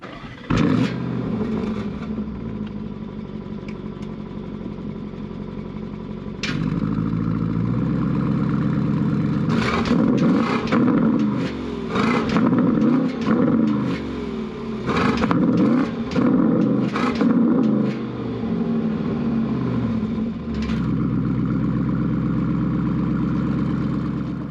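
A 2023 Porsche Cayenne Turbo GT with a titanium exhaust fires up and settles into a deep, steady idle. Repeated sharp throttle blips then rev it hard against the limiter, with short pauses back at idle between bursts, all close up.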